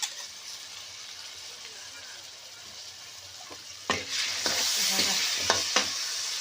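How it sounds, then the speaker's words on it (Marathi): Moth beans and potatoes dropped into hot oil with chillies, onion and spices in a pan on a wood-fired stove, a steady close sizzle that swells louder partway through, with sharp scrapes of stirring. "आता लगेचच आजींनी सोडलेली आहे मटकी आणि बटाटे"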